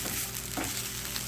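Beef steak frying in a pan and being turned, a dense, steady close sizzle with a brief stirring scrape partway through, no voices.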